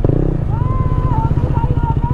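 A KTM motorcycle pulses loudly and close after shifting into second gear, its engine note rising in pitch, while a voice talks over it.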